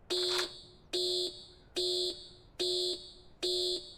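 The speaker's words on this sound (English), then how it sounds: "when you open a vault, a siren beeps" Five evenly spaced electronic beeping tones from a vault-opening siren in the video game Ghosts of Tabor repeat in a steady rhythm, each about a third of a second long, clear and alone.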